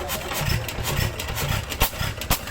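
An old hit-and-miss engine runs at an outdoor engineering show, its low exhaust chuffs firing in uneven bursts with a couple of sharp louder pops, close and continuous amid crowd noise.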